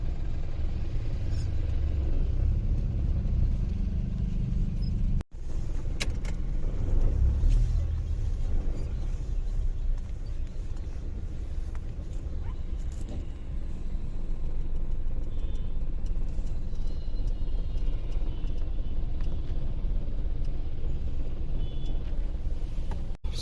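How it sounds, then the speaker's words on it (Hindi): Cars and trucks rumble through a stalled traffic jam in Bulandshahr, India, with low engine drone and passing vehicles, heavy near the start and steadier afterward, with brief voices in the background. "अभी तक भी मैं यहाँ पे फंसा हुआ हूँ ट्रैफिक में।"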